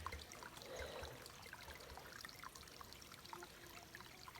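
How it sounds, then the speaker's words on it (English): A small babbling brook runs beside a canoe portage near Little Brother Lake in Haliburton. It makes a faint, steady trickle and gurgle of flowing water with no voices over it. "Beautiful little babbling brook here along the portage."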